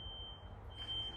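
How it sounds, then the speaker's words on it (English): A fire alarm test in Australia sounds a steady, thin high electronic tone under a low rumble of room noise, held constantly and fairly faint. "So a little fire alarm test here in Australia."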